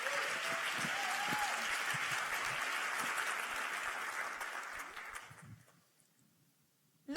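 Audience clapping at a science communication competition final, a full sustained round of applause that gradually thins and dies away, leaving near silence before a voice begins.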